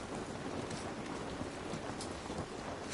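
Steady rain falls in The Last of Us Part 1 game, a dense, even hiss of drops at constant loudness with no voices over it.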